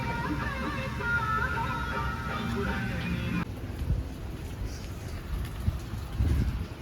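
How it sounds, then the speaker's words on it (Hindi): Rain patters steadily on a moving car while it drives through a downpour on a weekend grocery run, a continuous wash of drops and road noise throughout. Someone talks over it for the first half. "बारिश तेज़ हो रही है और ठंडी ठंडी बूंदें जो पड़ रही है ना।"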